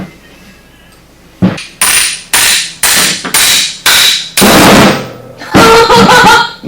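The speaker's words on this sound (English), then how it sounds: "all we got to do is drive this bearing out" Hammer blows drive a Quadboss front wheel bearing out of the hub on a RZR 900S, about seven loud, evenly spaced metallic strikes close up after a brief quiet start.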